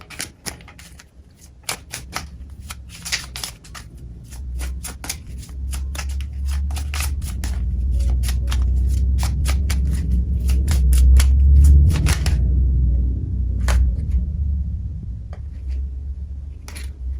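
Shadowland Lenormand cards shuffled and laid out on a table, a close, loud run of rapid flicking riffles and crisp card snaps, continuous over a low steady rumble, with scattered slaps as cards are drawn.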